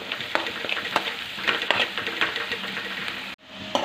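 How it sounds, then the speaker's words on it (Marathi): Green chilies sautéing in hot oil for a dry potato bhaji, giving a steady close sizzle with frequent clicking stirs of a spoon against the pan, briefly cut off near the end, with no talk. "आता आपली हिरवी मिरची पण छान परतून झालेली आहे"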